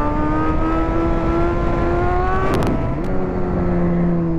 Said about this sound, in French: Allez, dernière petite accélération